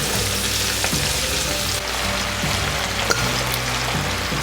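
Escarole fries in a pan of oil that has just held garlic cloves, giving a dense, even, close sizzle with a faint low hum beneath and no talking.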